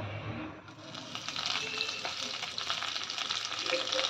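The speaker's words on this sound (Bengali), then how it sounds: "ফোড়নটা আনিয়ে নেব ভালো করে।" Mustard seeds, cumin and curry leaves temper in hot oil for a Marwari poha, a loud, dense crackling sizzle that flares up after a brief quieter start and then holds steady, close by.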